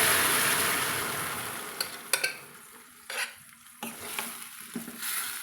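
Boiled cabbage is stirred into golden fried onions in a pan, a steady sizzle that slowly fades beneath several sharp scraping and clinking strokes of the spoon against the pan, with no one speaking.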